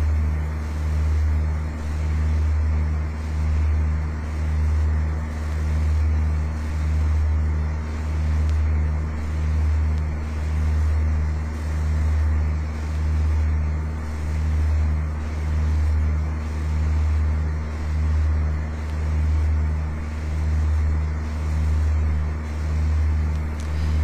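Aircraft engine at 2300 rpm in Flight Simulator X, flying the downwind leg of a traffic pattern at 1000 feet and 100 knots; a steady, droning hum with a low pulsing throb, continuous and alone.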